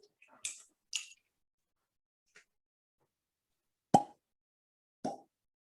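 A plastic cork pops out of a Rock Town Arkansas bourbon whiskey bottle. Several short, close, crisp plops and squeaks are separated by silent gaps, with no talking.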